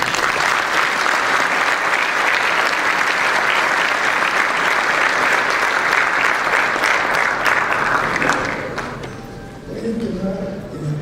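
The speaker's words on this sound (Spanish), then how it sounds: "Recibamos un aplauso a nuestros expertos de este momento." Sustained applause from a seated audience at a business panel on opportunities for small and medium enterprises, dense and steady clapping that fades near the end as a voice begins speaking.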